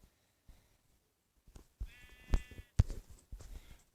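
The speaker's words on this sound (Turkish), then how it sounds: "Lütfen koyun sana çok ihtiyacım var." A Minecraft sheep bleats in short wavering calls over soft game background noise, with a couple of sharp thumps between them.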